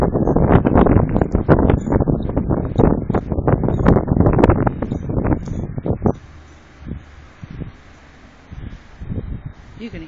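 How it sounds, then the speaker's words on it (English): Strong wind gusts buffet the microphone outdoors during a snowstorm in Merrill, Wisconsin, loud and roaring for several seconds, then dropping to a softer steady whoosh with occasional gusts. "And it's windy."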